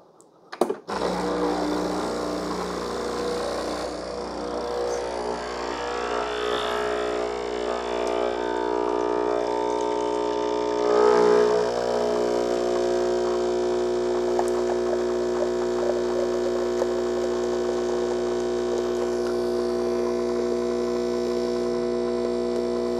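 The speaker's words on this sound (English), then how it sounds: "Let's warm the machine up. Okay, so let's brew in a double shot." Breville Barista Express espresso machine brewing a double shot, a steady pump hum with a dense tonal drone running unbroken and fairly loud after a brief click at the start, no voices.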